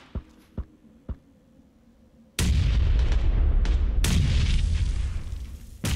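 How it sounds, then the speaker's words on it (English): Gunfire in the battle royale game PlayerUnknown's Battlegrounds: three faint, sharp shots spaced apart, then a loud, dense burst of blasting that roars on for several seconds. "Shots at the tree 240."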